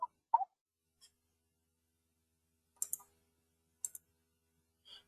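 Computer mouse clicks while working in CATIA software, a few crisp, close clicks scattered across a few quiet seconds, including quick paired double-clicks, with otherwise near silence.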